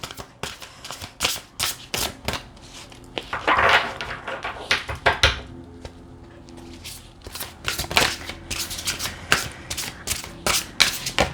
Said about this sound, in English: these cards are so huge, so very, very hard to shuffle sometimes.